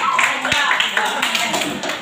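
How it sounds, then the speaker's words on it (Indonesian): Students clapping in a classroom during a group-discussion lesson, a loose burst of handclaps mixed with voices and a sharp tap near the start. "Kasih tepuk tangan dulu."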